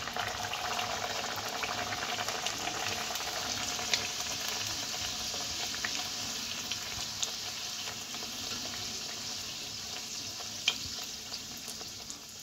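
Pea-filled kachori frying in hot oil, a steady, close sizzle and bubbling that holds evenly throughout with a few faint clicks from the pan and no talking.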